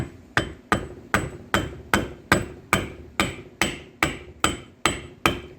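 Hammer taps on a steering box being reinstalled on a 2003 Dodge Ram 3500 dually, about a dozen sharp, evenly spaced metallic strikes, close and loud with nothing else heard.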